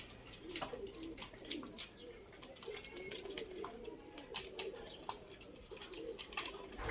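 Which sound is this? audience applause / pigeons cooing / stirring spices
pigeons cooing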